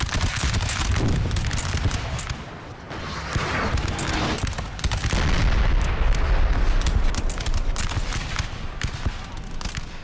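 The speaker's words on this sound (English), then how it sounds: "He's got artillery 2 firing away here" Artillery batteries firing in the Napoleon Total War video game, a dense barrage of booming cannon shots and crackling musket volleys, loud and continuous over a rumbling battlefield.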